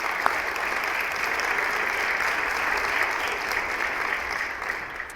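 Steady applause fills the Connecticut House of Representatives chamber on opening day, a sustained wash of clapping from many people that holds evenly from start to finish.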